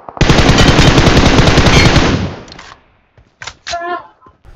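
Rapid automatic gunfire rattles loud and continuous for about two seconds in a mobile shooter game as a player finishes off two enemies, then stops, followed by a few short clicks and a brief burst of in-game sound.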